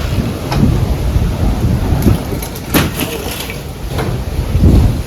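Strong wind and rain roar steadily, with gusts swelling and fading and broadband rumbles throughout; no voices.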